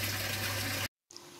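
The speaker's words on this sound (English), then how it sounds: "And now we have the full siphon happening." An aquaponics bell siphon draining water from a grow bed, a steady close gushing rush with a low hum that cuts off abruptly, then a faint trickle resumes.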